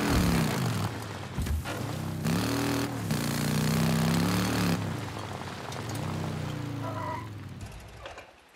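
Motorcycle ride in the video game Days Gone, an engine droning and revving steadily with shifting pitch, with game sounds and brief clatter mixed in.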